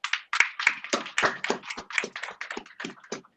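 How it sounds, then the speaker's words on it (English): An audience at a law moot court prize ceremony applauds the winning team, a brief patter of irregular claps that sound sparse and close, as though from a small group or over a virtual call. "A round of applause for them."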